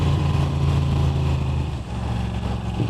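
A Moto Guzzi V7 Stone motorcycle fitted with an upgraded exhaust runs close by, its deep throbbing engine note holding steady with a slight dip and swell midway.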